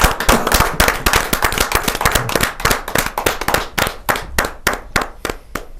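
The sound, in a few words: audience applause welcoming a poet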